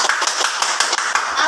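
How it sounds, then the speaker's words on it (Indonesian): An audience at a school session on positive culture claps in a steady, dense burst of hand clapping, loud and close, with no talk over it. "Boleh Bapak tepuk tangan?"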